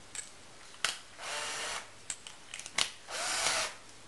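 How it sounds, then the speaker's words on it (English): A powered screwdriver drives a screw into drywall in two short whirring bursts, with scattered clicks and taps of handling between and around them. "Now put the screw through."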